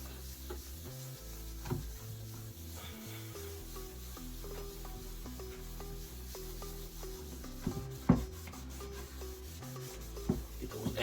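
Moderate-pressure rubbing on a car headlight lens with a Meguiar's headlight restoration kit, a continuous close scrubbing texture with occasional sharper scrapes and light knocks toward the end.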